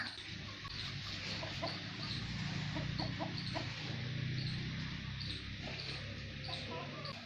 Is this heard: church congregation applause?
no